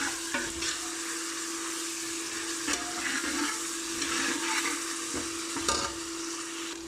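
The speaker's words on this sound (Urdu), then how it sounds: "پیاز ہمارا وہ فرائی ہونا شروع ہو گیا ہے" Onions fry in a pan as the base for an aloo matar gajar curry, giving a steady, dense sizzle and crackle throughout with no talking.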